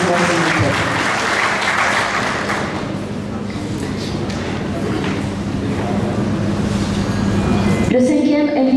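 Steady, dense applause fills a ceremony hall at an awards event in Mali, continuing for several seconds before cutting off abruptly near the end.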